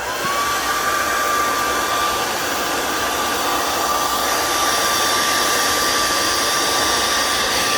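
A hair dryer blows steadily and loudly throughout, drying the base of a freshly thrown pottery bottle still on the wheel, a continuous close-up whoosh with no voices.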